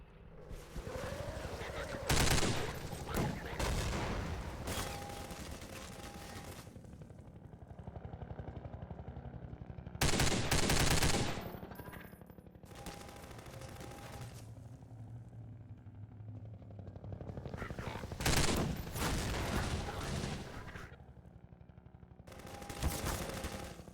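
Enemy gunfire in Half-Life 2's Get A Life mod comes in loud bursts of rapid shots, with repeated volleys spread over a steady background of game rumble and effects.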